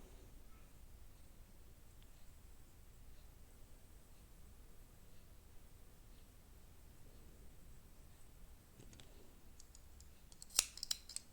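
Scissors snip crochet yarn for a butterfly hair clip, with a quick cluster of close, crisp cuts near the end after a long stretch of quiet room tone and no talking.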